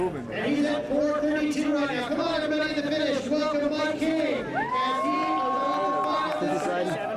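A crowd cheers and shouts along the course of a 1996 pro men's downhill mountain bike race at Mount Snow, Vermont, a steady roar of voices that an excited commentator talks over throughout.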